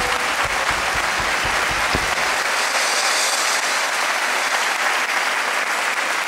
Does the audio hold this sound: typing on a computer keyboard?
no